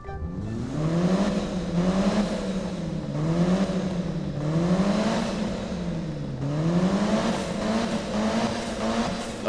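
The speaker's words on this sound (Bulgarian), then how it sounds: "И ще замълча, за да ви оставя да се насладите на звука на този двигател" Mitsubishi Evo engine in Need for Speed 2015, tuned to over 1000 horsepower, revving in steady rising and falling sweeps, loud and continuous, with a hint of tire squeal and no talking.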